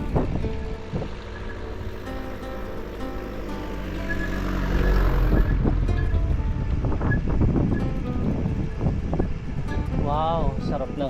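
Rushing wind roars across the microphone during a fast downhill bikepacking descent on the Cebu Divide route, swelling louder midway and staying steady, with brief voice sounds near the end.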